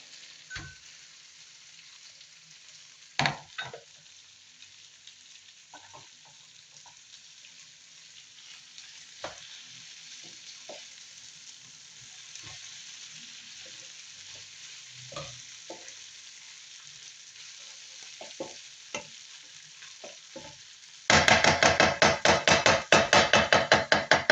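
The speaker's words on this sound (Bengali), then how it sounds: "ধনিয়া পাতা দেওয়া হয়ে গেছে, এখন আমি নেড়ে নিচ্ছি" Chickpea biryani with fresh coriander leaves is stirred in a pan: a steady frying hiss with scattered spoon clicks and scrapes, then a burst of loud, rapid rhythmic scraping near the end, with no voices.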